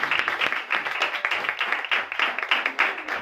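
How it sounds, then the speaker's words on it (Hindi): A church congregation claps together in a brisk, dense burst of applause, moderately distant and with no voices. "आई खुदा के जलाल के लिए तालियां बजाएं"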